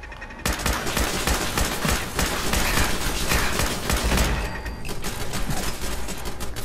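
Rapid automatic gunfire in Fallout 4's Nuka World, loud dense bursts of shots rattling almost continuously with a short lull near the end.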